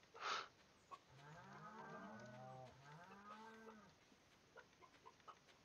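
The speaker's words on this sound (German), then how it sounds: "Warum höre ich deine Kühe bis hier?" Cows moo repeatedly in the farming video game Stardew Valley, a few drawn-out low calls overlapping in steady succession at moderate distance, preceded by a brief bright chime and followed by faint scattered clicks.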